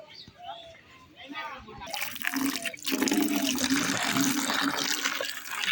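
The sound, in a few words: water being filled into a bucket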